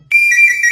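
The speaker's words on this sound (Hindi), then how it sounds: "अरे फोन तो स्विच ऑफ आ रहा है इसका" A phone call to a switched-off number plays a single loud, clear electronic tone, close and sustained for under a second, with no voices.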